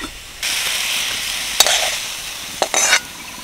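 Vegetables with chopped coriander sizzle loudly in a frying pan, the hiss rising suddenly and holding steady, with sharp spatula scrapes and clatters cutting in near the middle and end.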